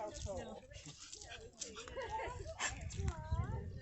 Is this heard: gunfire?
no